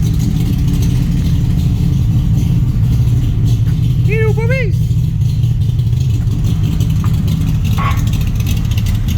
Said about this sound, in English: No, that's a new exhaust system.